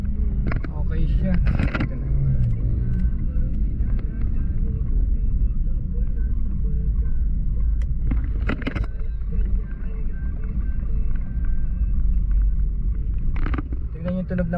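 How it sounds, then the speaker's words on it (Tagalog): A 2006 Mitsubishi Adventure GLS Sport gasoline engine idles with a steady low rumble throughout, while someone speaks over it in brief bursts. "Tingnan yung tunog ng makina."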